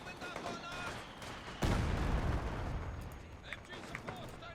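Heavy mortar and gunfire in the World War II strategy game Company of Heroes 2, with distant crackling shots and then a sudden loud blast that leaves a rumbling tail and scattered pops afterward.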